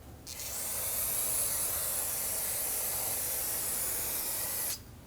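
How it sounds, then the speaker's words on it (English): A steady spray hisses onto the braking surface of a rear brake rotor on a 2014-2019 Toyota Corolla, starting and stopping sharply in one continuous burst of about four seconds. "rinse off the other braking surface"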